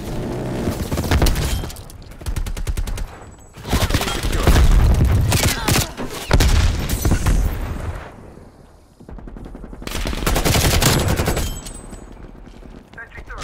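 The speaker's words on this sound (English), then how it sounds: "Sending frag grenade." Rapid machine-gun bursts and heavy booms from a frag grenade explosion in the Call of Duty: Black Ops Cold War shooter, loud and sustained in several waves with brief lulls, a voice faintly present beneath the gunfire.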